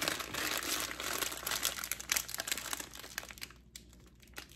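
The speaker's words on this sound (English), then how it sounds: "Sorry about the crinkling." Packaging crinkling while a framed print of Waterhouse's The Soul of the Rose is unboxed, a continuous close, soft rustle of plastic and paper that gradually thins out near the end.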